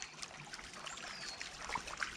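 River water trickles and babbles steadily on a hot day, a close, continuous gentle flow with small bright splashes scattered through it.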